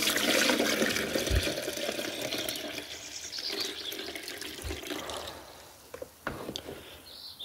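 A dark liquid solution is poured off from a container during gold recovery from trimmed computer RAM, a steady close trickle and splash that fades, then a few sharp clinks and drips near the end.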